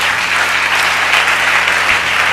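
A church congregation at a Sunday closing worship service claps in dense, steady applause that fills the room from start to finish.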